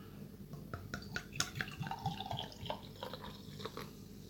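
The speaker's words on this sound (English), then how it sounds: "I will pour a little bit of this one for myself" Beer being poured into a glass, with a quiet trickle and scattered drip-like splashes over about four seconds, fairly faint and close with no talking.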